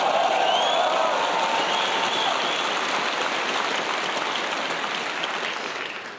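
An audience at an Ed Byrne stand-up comedy show breaks into a broad, dense wash of clapping that holds steady and then slowly tapers off toward the end.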